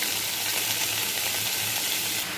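Ash gourd pieces sizzle in hot oil with ginger paste, giving a steady, close frying hiss that holds evenly throughout, with a faint low stirring texture beneath and no voices.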